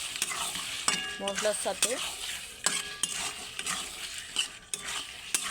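Chicken stir-fried with spice paste in a pan for a desi chicken curry: steady sizzling with repeated scraping of a utensil against the pan, and a voice speaks briefly over it.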